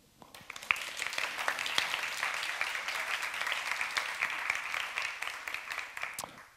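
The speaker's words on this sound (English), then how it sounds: "give Sanna, the one who's doing most of the work with Kreativa Landskrona, a round of applause" A round of applause rises from an audience after a design talk, dense steady clapping from many hands that swells quickly and holds for several seconds before fading.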